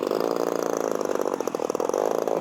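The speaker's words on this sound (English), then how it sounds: "The engine's running, the gear's working." A P-51 Passion Wagon model plane's engine runs with a steady, buzzing whine, loud and close, holding an even droning tone throughout with no voices.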